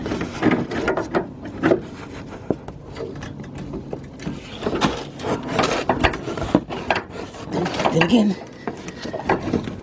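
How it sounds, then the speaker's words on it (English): Snips cutting through a rusted brake line on a 2004 Ford Expedition, repeated scraping, rubbing and crunching metal sounds close up with clanks and knocks, while someone talks quietly in between. "I'm gonna get my snips and cut that."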